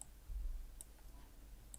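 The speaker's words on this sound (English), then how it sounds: "Now, just keep clicking scale." A few faint, isolated computer mouse clicks, spaced about a second apart, during 3D mesh editing for The Sims 3, in an otherwise quiet room.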